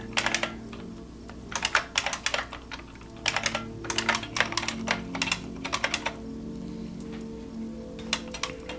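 Someone types code on a computer keyboard, bursts of quick close key clicks separated by short pauses, continuing throughout over a faint steady background hum.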